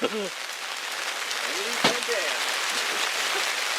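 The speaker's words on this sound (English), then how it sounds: "It's raining again." Steady rain patters on a surface close by at a backpacking campsite, a continuous hiss with scattered drops, while a few birds chirp faintly in the background.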